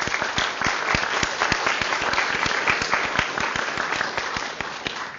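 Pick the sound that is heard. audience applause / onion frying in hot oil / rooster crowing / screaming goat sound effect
audience applause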